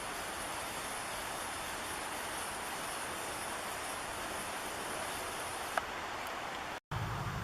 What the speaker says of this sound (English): I can hear the Coast Guard helicopter going.